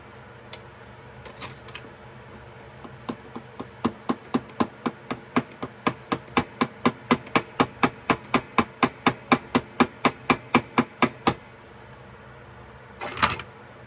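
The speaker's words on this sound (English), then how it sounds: "It needs to be tapped on a little bit right there." Pin on a 1974 Case XX 12031L electrician's pocket knife being tapped with a small hammer: a long, steady run of about thirty crisp, evenly spaced metallic taps close by, followed by a brief rustle.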